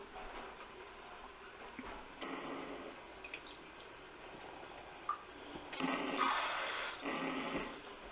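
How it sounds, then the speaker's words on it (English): Water splashed into venison chili sizzling in a pan sets off two louder bursts of hiss and crackle, at about two and six seconds, over a quieter background of sizzling. "Just let her sit on one side, sizzle for a while. Now I add a little water once in a while."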